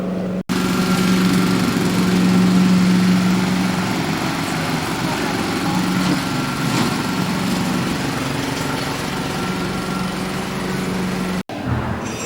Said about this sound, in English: The noise you can hear is the hoovers that they go around and hoover up all the leaves